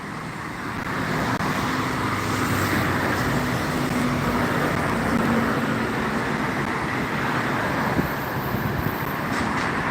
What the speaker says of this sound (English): A lot of traffic down here, that's for certain.